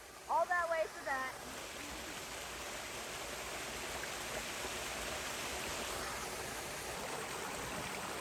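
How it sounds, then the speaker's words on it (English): A waterfall pours into a small swimming-hole creek on a wet hike, giving a steady broadband rush of falling and flowing water that holds evenly throughout after a brief voice at the start. "And there it is, folks. There's the waterfall."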